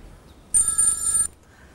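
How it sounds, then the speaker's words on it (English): A telephone rings once in a short, loud burst of bright electronic trilling, then cuts off into quiet room tone. "Phone."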